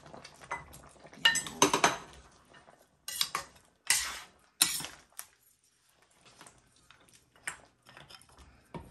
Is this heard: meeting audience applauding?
no